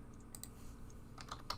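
Keystrokes on a computer keyboard, a few scattered taps then a short quicker burst, faint and close against a low steady hum, with no voices.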